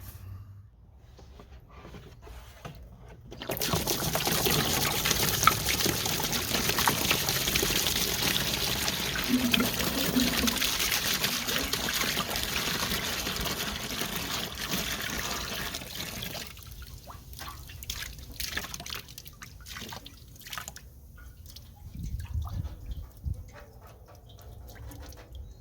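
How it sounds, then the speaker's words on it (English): Rust remover poured into and drained from a 1970 Yamaha AT1B motorcycle gas tank, a steady close gush and rush of liquid for over ten seconds, easing into irregular trickles and drips. "you pour this in, you rock the tank all around and make sure it's coated everywhere, and then you let it drain out and dry"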